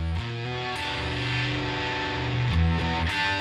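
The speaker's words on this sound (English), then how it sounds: "I'll put some fuzz on here" Electric guitar played through a fuzz effect pedal, sustained chords with thick, saturated harmonics ringing steadily, loud and close, with no talking.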